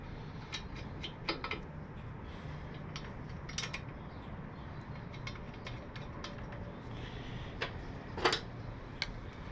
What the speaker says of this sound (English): I have a ratcheting wrench on here.